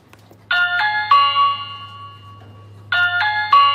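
A Ring Door View Cam video doorbell chime sounds twice, each a clear, loud two-note ding-dong of bright tones, separated by a brief pause.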